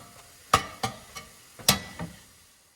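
Ground meat for a Bolognese broken up and stirred in a pan with a chopping tool, giving five sharp scraping clacks at uneven intervals over a faint sizzle, close and moderately loud, with no voices.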